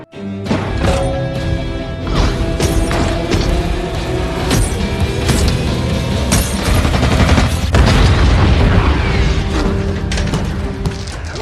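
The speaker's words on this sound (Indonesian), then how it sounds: "lalu meledakkan ranjaunya tepat di tengkorak si Yuli" A mine detonating in an action film, a loud, sustained roar of crashing blasts and gunfire-like bangs that runs dense and unbroken for about eleven seconds.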